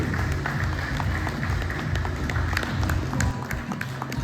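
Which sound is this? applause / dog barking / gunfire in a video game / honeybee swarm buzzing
applause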